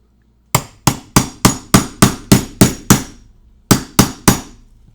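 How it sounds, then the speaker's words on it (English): A hammer taps a keying tool into the cylinder of a Master Lock 370 padlock, giving about eleven sharp, evenly spaced metallic strikes, close and loud, with a brief pause before the last three. "tap with hammer until the cylinder pins shear"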